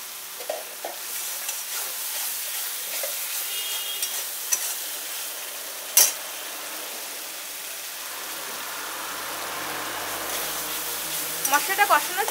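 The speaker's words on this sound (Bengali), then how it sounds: "এখন সব মশলাগুলো একটু ভালো করে আমি কষিয়ে নেব।" Spices for a raw jackfruit kofta curry being stirred and fried in a pan, with a steady soft sizzle, occasional scraping clicks of a spoon and a louder clatter near the end.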